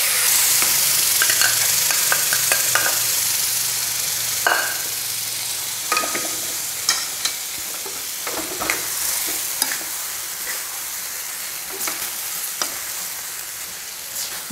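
Pumpkin and beans being stirred in a hot Hindalium pan for a Kerala erissery, with a steady close sizzle and repeated scraping clicks of a spoon against the metal, no voices.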